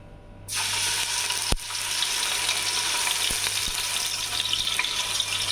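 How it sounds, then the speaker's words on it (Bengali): Freshly blended ginger garlic paste sizzles loudly in hot oil in a pan, a steady close hiss that starts abruptly and continues throughout, with a few faint clicks of stirring. "রসুন একটু তেলের মধ্যে ফ্রাই করে নিব।"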